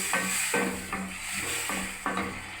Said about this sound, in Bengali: এবারে বন্ধুরা আমি দেখুন সজনে ডাঁটাগুলো ফেলে দিচ্ছি বন্ধুরা, ঢেলে দিলাম।